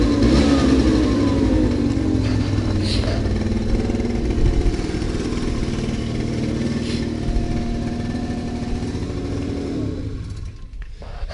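A cheap moped engine runs steady and loud after restarting, buzzing with small rev swells before it dies away near the end.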